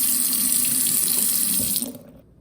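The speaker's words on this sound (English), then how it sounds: "Then I can push here and it has a very nice spray." A kitchen faucet sprays water in a steady, hissing rush that cuts off near the end, leaving quiet.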